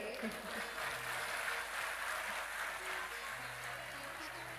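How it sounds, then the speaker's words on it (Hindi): A large devotional audience at a Shrimad Bhagwat katha in Rewari, gathered despite heavy rain, breaks into loud, dense applause that stays steady and unbroken for the whole stretch. "जोरदार तालियां आप अपने लिए बजाइए"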